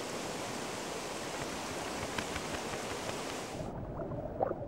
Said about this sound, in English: The current in the river is strong.